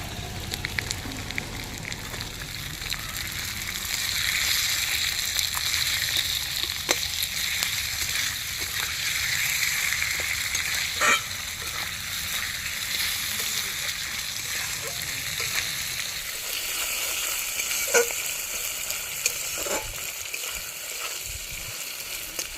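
A fish head fries in a pan of oil with spices, giving a continuous close sizzle and spatter. Occasional clicks and scrapes of stirring break through the sizzle, which stays even for over twenty seconds.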